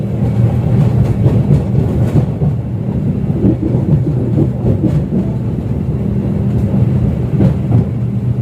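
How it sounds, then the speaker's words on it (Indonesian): The Argo Bromo Anggrek train rolls into Cirebon station with a loud, continuous low rumble of wheels and carriages, steady throughout with faint rhythmic clatter and no voices. "Saat ini kereta api Argo Bromo Anggrek telah tiba di stasiun Cirebon."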